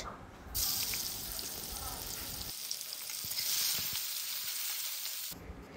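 Chopped onion going into hot oil with whole cumin in a mutton curry pan, a bright continuous sizzle that rises sharply as the onion lands and stays steady, close and alone.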